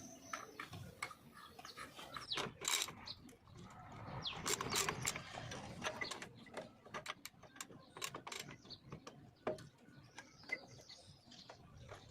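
A 22-size nut being tightened onto the clutch of a Maestro scooter, heard as close, uneven metallic clicks and ratcheting over a steady background, with no talking.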